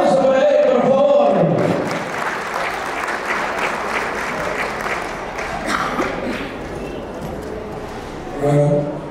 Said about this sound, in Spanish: Los aplausos para él, por favor.